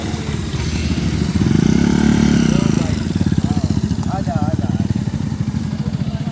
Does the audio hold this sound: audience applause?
no